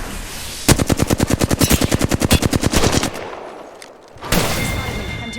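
Rapid automatic gunfire in the video game Apex Legends strikes the player, a loud, evenly spaced burst of about two dozen shots lasting over two seconds, then a short lull before another rush of noise.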